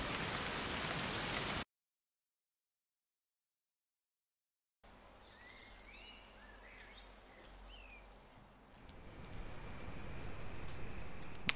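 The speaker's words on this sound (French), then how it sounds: "à quoi sert cette pluie?" Faint, steady rainfall in a forest setting in the game Mind: Path to Thalamus, with scattered bird calls, following a brief burst of noise and a silent gap, and growing slightly louder toward the end.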